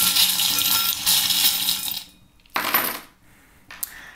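Small metal charms tumble and clatter onto a table for a divination reading, a bright jingling spill followed by two shorter bursts of clinking as more pieces drop, with no voices.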